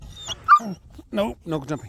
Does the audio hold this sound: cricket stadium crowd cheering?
no